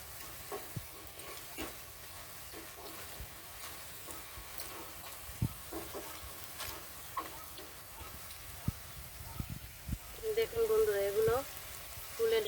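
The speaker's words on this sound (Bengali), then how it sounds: "ঘুরিয়ে ফিরিয়ে এইভাবে লাল লাল করে ভেজে তারপর তুলে নেব।" Sago and potato fritters fry in hot oil with a steady, close crackling sizzle and occasional stirring clicks; a brief voice rises near the end.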